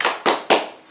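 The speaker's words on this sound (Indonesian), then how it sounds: "Sekarang kita tepuk salut dulu ya" A group of people clap in unison for a rhythmic 'tepuk salut' cheer: three sharp, loud claps spaced evenly about a quarter second apart, each ringing off briefly.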